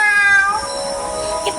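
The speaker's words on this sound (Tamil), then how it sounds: "இப்போ பூனை கத்துறது." A cat meows in a voice guessing game, a single clear drawn-out call that sounds close and fairly loud, with no talk over it.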